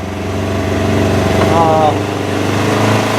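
A Polaris RZR side-by-side's engine drones steadily while cruising, a loud, even mid-pitched hum with a brief whine rising over it partway through.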